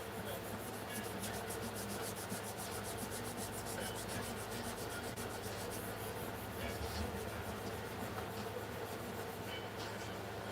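Sandpaper at a final fine grit rubbed steadily over a wooden piece, a continuous close scratchy hiss with rapid back-and-forth strokes that never pause.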